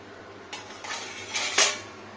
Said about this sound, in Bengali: দেখুন ঢাকাটা এবার আমি আবার আস্তে করে খুলে নেব